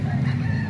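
Four chickens make a very brief, close burst of clucking, with a low rumble underneath.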